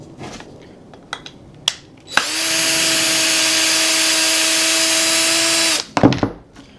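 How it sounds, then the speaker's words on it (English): A powerful electric drill spins up and runs at a steady, loud, high whine for about three and a half seconds, then stops, with handling clicks and knocks before and after. "You can see how much more powerful this drill is compared to the Craftsman."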